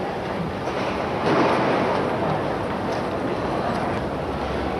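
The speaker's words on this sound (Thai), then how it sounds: "รถไฟจะออกแล้ว" A passenger train pulling out of a station gives a steady, loud broadband rumble of rolling wagons and engine noise that swells slightly partway through, with no clear voices.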